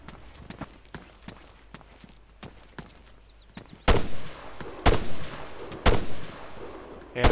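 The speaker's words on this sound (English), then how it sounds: "Enemy fire! Enemy fire! Under fire!" Arma 3 gunfire during a co-op escape mission on Stratis: a rapid string of crisp shots, then four heavy, booming reports about a second apart, loud and close, with faint chirping radio-like tones in the background.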